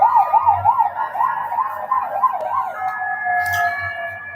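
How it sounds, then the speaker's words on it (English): An ambulance siren passes on a street in Portugal, its wailing tone rising and falling loudly and close, then settling into a steadier hold as it moves on, with road traffic rumbling underneath. "let's wait for this ambulance to go by"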